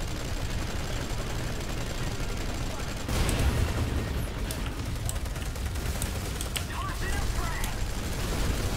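Shotgun fire in the Planetside 2 video game: after a steady background of game ambience, a run of sharp, separate shots cracks out, spaced irregularly over the later part.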